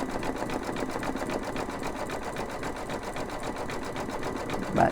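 Embroidery machine stitching a small design, a continuous fast rhythmic whirring and tapping of the needle, steady and close, with no pauses.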